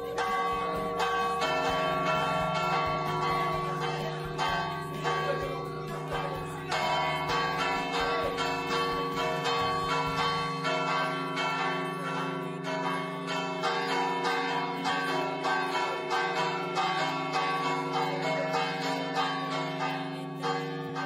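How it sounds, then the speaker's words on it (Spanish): Church bells from Montehermoso are rung by hand, a loud, dense pattern of overlapping bell strikes that carries on steadily, with no talk over it. "el toque manual de campanas acaba de ser declarado Patrimonio Inmaterial de la Humanidad por la UNESCO"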